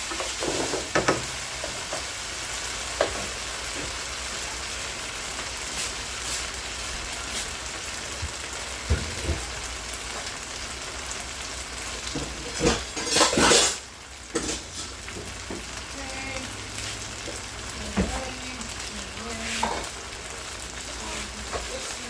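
Peas and corn sizzle steadily in a hot pan with onions while a utensil stirs, a constant frying hiss broken by occasional clinks and a brief burst of scraping near the middle, close and moderately loud.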